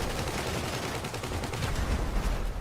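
Dense, rapid gunfire from a GTA V game session, with overlapping shots forming a continuous crackling barrage that is steady and fairly loud throughout.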